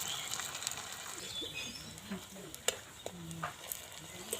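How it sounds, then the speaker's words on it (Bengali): Semolina sweet fritters (sujir rosh bora) frying slowly in oil, a steady soft sizzle with faint scattered pops and a few light clicks from a utensil, fairly quiet and continuous. "একইভাবে ভাজবো একটু সময় নিয়ে ভাজলে পরে কিন্তু মিষ্টিটা খুব সুন্দর রেডি হবে"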